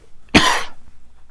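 One harsh, loud cough bursts out close to the listener and then trails into quiet room noise.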